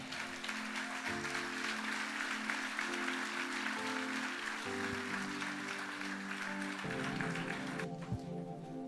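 A church congregation applauds steadily and fairly quietly for about eight seconds while sustained keyboard chords play underneath.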